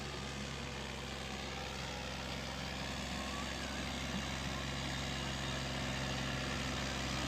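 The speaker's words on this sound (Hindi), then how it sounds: "बेहतरीन ट्रैक्टर और ताकतवर ट्रैक्टर 480 पावर प्लस" A New Holland 480 Power Plus tractor hauling a sugarcane load in Sindh runs with a continuous heavy diesel drone, steady and close throughout.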